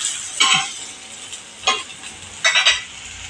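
Jowar thalipeeth flatbread being sautéed and turned in a pan, giving three short bursts of scraping and sizzling about a second apart over a quiet background, with no voices.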